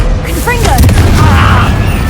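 A Confringo fire spell in Hogwarts Legacy: a character's voice calls out, then a loud fiery blast booms and rumbles for about a second.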